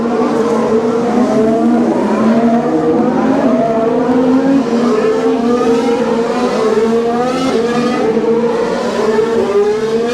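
Formula 1 cars scream past one after another at the Singapore Grand Prix night race, their high engine whines rising and falling in steady overlapping waves at a loud, continuous level.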